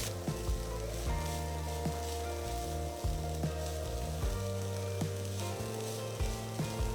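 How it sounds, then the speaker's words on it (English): Onions sauteing in a pan with coarse ground masala over medium flame, a soft even sizzle with periodic stirring knocks, no voices. "Continue to saute for another 5 minutes on medium flame."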